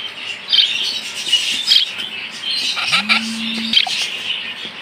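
Hill myna chicks give scattered high, squeaky chirps and short calls at moderate volume over a faint background, with one brief low tonal sweep near the end.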